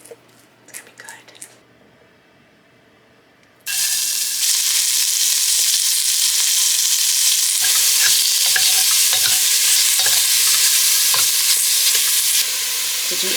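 Pork pieces frying in batches in a pan for a drunken pork stew: after a few seconds of quiet handling, a loud, continuous hiss and crackle of sizzling oil takes over and holds steady.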